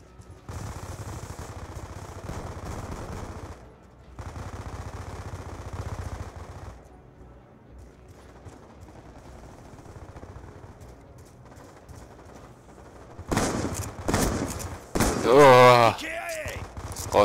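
Bursts of rapid gunfire in Black Ops 2 multiplayer crackle near the end, loud and sharp, after a stretch of muffled background noise and quiet talk.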